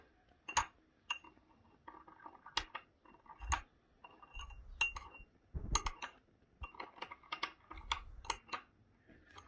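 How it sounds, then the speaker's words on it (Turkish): Egg salad with pepper and olive oil mixed in a glass bowl, heard as faint, irregular clinks and taps of a utensil against the glass with soft muffled thumps, close and quiet, no talk. "iyice karıştırın."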